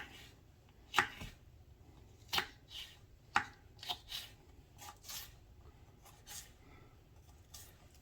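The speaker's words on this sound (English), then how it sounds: "Get it into some julienne strips and just cut it small." A knife cuts a bell pepper into julienne strips, giving a handful of sharp, irregular chops on a board that stand out against a quiet room.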